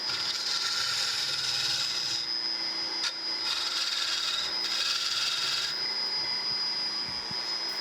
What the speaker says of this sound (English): I'll use a scraper here to smooth that up a little bit.